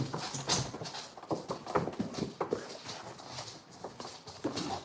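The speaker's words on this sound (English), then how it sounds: "The dogs want to eat me. They think I am a toy." Dogs playing indoors whimper and scuffle in a busy, continuous jumble of small whines, paws and movement noises, fairly close and moderately loud.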